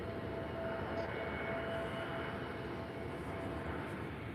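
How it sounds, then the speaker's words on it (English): An easyJet Airbus A320neo landing at Faro airport, a steady broadband jet roar holding at an even level throughout with no voices. "next landing is right now in just a couple of seconds. An easyJet A320 Neo"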